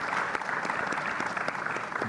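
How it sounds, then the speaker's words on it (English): An audience at a conference plenary on policies and strategies for Africa applauds its panelists, a brief burst of dense, steady clapping from a roomful of people. "And I'll ask applause to my panelists."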